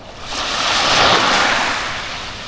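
Steady rushing surf of ocean waves at Casapsapan Beach swelling and fading, fairly close, with a broad wash of noise and no voices.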